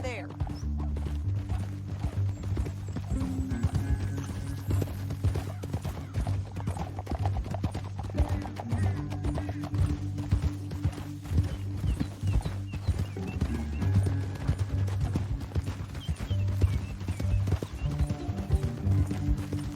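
Horses' hooves beat in a steady clip-clop through a Red Dead Redemption 2 ride, a continuous rhythmic drumming under music and a low steady drone, with voices talking over it.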